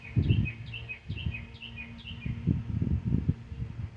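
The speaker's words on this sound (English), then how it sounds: "Hear that bluebird. That bluebird gave a warning today to the crows and things." A bluebird calls a warning outdoors in a residential area, a repeated series of short, high chirps spaced evenly, fairly faint, over low background rumble and yard noise.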